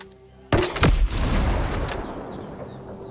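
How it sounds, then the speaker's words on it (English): A grenade fired in Ghost Recon Breakpoint lands with a sharp, loud blast followed by a second burst, then a long rumbling decay with faint high chirps in the tail. "let me fire a grenade over here and see if I can attract some attention"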